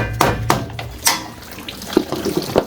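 Coolant from a broken Fiat 500's engine, under timing belt and head gasket repair, splashes out in irregular close bursts and gurgles, like water running from a tap.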